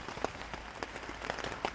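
Rain pattering on a tent during a mountain hike near the Col du Tourmalet, a close, irregular spatter of separate drops tapping on the fabric.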